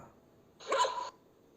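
A single short, rough dog bark rings out once against a quiet background.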